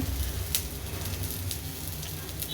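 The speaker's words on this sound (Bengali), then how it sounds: "দেখতে পাচ্ছ সমস্ত আমার লাল লাল করে ভাজা হয়ে গেছে পেঁয়াজটা" Onions fry in oil in a pan while kalmi shak is being cooked, a soft, steady sizzle with occasional sharper pops, faint and continuous throughout without any talk.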